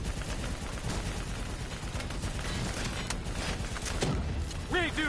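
Black Ops 3 campaign gunfire aimed at a VTOL and an APC: steady, dense bursts of shots mixed with heavy battle noise and other effects, loud throughout.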